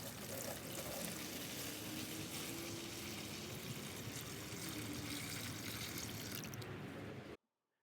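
Water pours steadily onto a cardboard box in a shower waterproofing test, a continuous close splashing wash that stops abruptly at the end.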